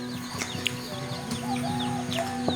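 Chickens clucking and squawking in short bursts at a campsite over a steady background hum, fairly close, with no talking.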